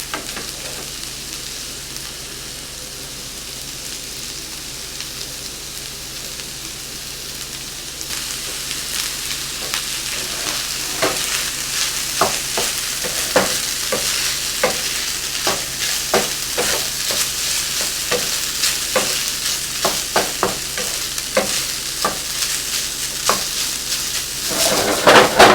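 Fried rice frying in a pan over high heat, a steady loud sizzle that swells after several seconds, then broken by frequent quick scraping stirs and spatula taps, close and continuous.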